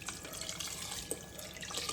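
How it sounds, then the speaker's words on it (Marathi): Water is poured onto raw rice in a cooking pot for masala rice, a soft, quiet trickle and splash that continues without pause, with no talking. "आपण आता पाणी ॲड करणार त्याच्यात"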